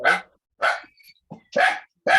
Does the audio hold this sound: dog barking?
yes